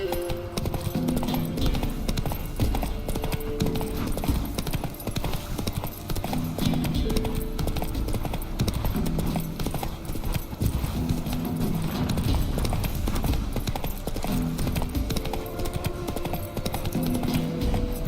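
Horse hooves clip-clopping in a steady galloping rhythm in the video game The Witcher 3, continuous and fairly loud against a busy in-game ambience, with a voice occasionally speaking over it.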